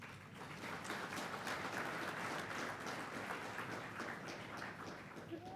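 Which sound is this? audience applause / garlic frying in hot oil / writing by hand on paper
audience applause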